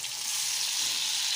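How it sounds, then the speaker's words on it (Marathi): Half a spoon of cumin seeds sizzles in hot oil in a kadhai, a steady, bright hiss that stays even and close throughout, with no talk. "कढईमध्ये तेल टाकायचं आणि तेल थोडं गरम झाल्यानंतर अर्धा चमचा जिरं टाकायचं आहे"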